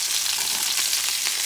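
Chopped green onions sauté in a hot pan during preparation of a blackened mahi mahi dish, giving a steady, close sizzle with a soft crackle throughout and no voices.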